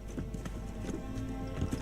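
Horse hooves clip-clop in a steady, brisk rhythm from the Age of Empires II game, with repeated close hoof strikes over a continuous low background hum.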